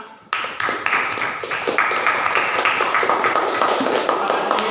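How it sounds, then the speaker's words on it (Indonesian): Students in a classroom clap for a presenting group, a steady, rhythmic burst of sharp, fairly close handclaps that begins abruptly and keeps an even beat to the end. "Tepuk tangan untuk kelompok 5."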